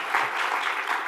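Audience applause at a live professional conference, steady dense clapping from a crowd throughout a brief burst.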